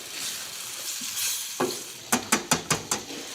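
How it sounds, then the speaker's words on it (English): Balsamic vinegar goes into a simmering sauce for spaghetti with fennel and bitter greens: a steady sizzle, a sudden hiss as the liquid lands, then five quick spoon clinks against the pan. "I'm going to add just a little balsamic vinegar to add complexity."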